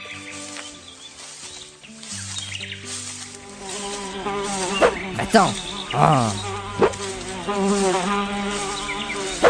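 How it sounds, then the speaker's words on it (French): A housefly buzzes in a comedic parody of The Legend of Zelda: Ocarina of Time, its drone running under music and cartoonish voices, with a few louder bursts partway through. "Dégage, saloperie de mouche."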